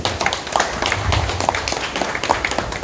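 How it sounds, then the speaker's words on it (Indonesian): A room full of people at an organisational meeting in Lampung applaud together, dense steady clapping that fills the space with a busy, even patter. "kita beri tepuk tangan buat Bu Dona dengan Pak Jack"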